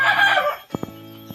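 Free-range village chickens crow in a cramped 1-by-2-metre coop: one loud, close, drawn-out crow fills the first half-second, then a few short, soft clucks follow.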